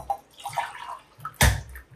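Coconut milk is poured by the glass into a pot for prawn biryani, with light splashes and one louder gush of liquid partway through.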